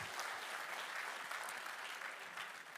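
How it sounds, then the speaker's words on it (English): An audience at a lightning talks event applauds a speaker, a dense, steady wash of many hands clapping that fills the room and tapers slightly toward the end. "Give him a round of applause."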